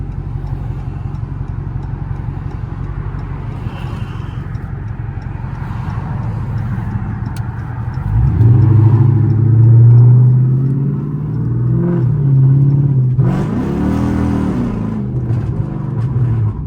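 A Chrysler 300C engine idles with a low, steady rumble, then revs hard and loud through a pair of strong pulls, with the engine note rising and falling.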